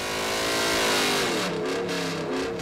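Ford Coyote Aluminator V8 engine revving hard on a dynamometer, a loud sustained high-rpm wail rising in pitch, then tapering with pulsing exhaust tone as the pull ends.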